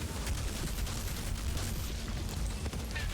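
Sustained gunfire in the looter shooter Outriders, a steady rattle of rapid shots mixed with booms and heavy game action, continuous and fairly loud throughout with no talking.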